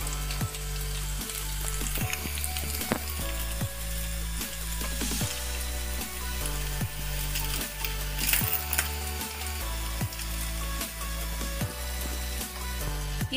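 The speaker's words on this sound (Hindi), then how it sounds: "गोल्डन ब्राउन होने तक ही भूनना है" Semolina (suji) nuggets deep-fry in oil until golden brown, giving a loud continuous bubbling sizzle close by. Occasional knocks and scrapes from a utensil sound through it, and no one speaks.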